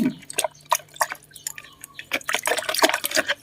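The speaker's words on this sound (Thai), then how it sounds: "ละลายเลยค่ะ ละลายด้วยมือนี่แหละนะคะ" Red betel-chewing lime stirred and dissolved by hand in water, giving irregular close drips, small splashes and squishy sloshing in quick uneven bursts.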